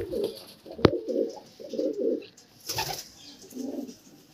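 Racing pigeons in a loft give several short bursts of deep cooing, close and fairly quiet, with a sharp snap and a brief wing flutter between the calls.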